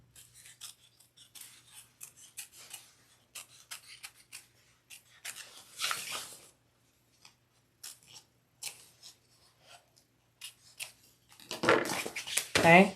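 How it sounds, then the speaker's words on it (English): Scissors snip away fabric from behind a zipper on a shoulder bag, a series of short crisp cuts and rustles close by, with brief bursts of handling and louder fabric rubbing near the end. "you want to cut away the material from the back, just like you do on any normal zipper overlay"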